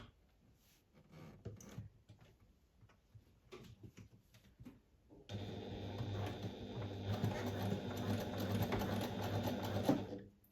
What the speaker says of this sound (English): I'm going to sew that with a 1 centimeter or 3/8 inch seam allowance